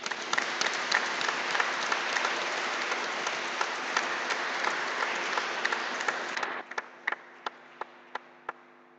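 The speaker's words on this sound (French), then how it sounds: "On peut les acclamer" Warm applause from a church congregation at Epiphany Mass, steady dense clapping for several seconds before thinning to a few scattered last claps.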